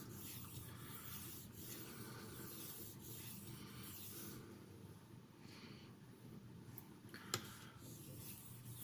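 A Cold Steel Broken Skull knife with a CTS XHP steel blade is worked across a sharpening stone, giving a steady, close, continuous rubbing scrape with strokes blending together and one brief sharp tick near the end.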